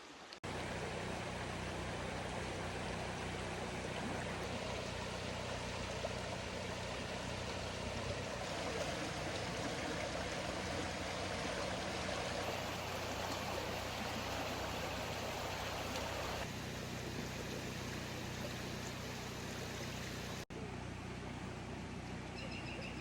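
A forest creek in Monongahela National Forest, West Virginia, gives a constant faint rushing wash of flowing water, even and unbroken throughout with no talk.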